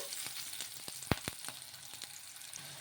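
Onion pieces frying in a little oil in a pan, a quiet close crackle dotted with a few sharp pops and clicks, brief and without speech.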